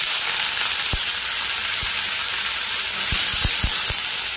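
Raw banana and potato pieces frying in a tempering of onions, giving a continuous loud hissing sizzle, close up, with a few soft knocks of a spoon against the pan and no talk.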